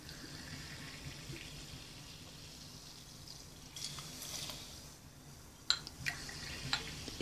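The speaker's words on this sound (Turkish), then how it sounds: "İki fincan maden suyu ekledim." Mineral water pours from a cup into a Turkish coffee pot, a soft continuous trickle and splash that swells midway and ends with a few clinks, close by with no talking.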